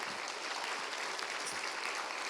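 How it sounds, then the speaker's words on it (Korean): A church congregation at a revival service claps in a brief, dense burst of applause that fills the room evenly. "우리 한번 큰 박수 해주시죠"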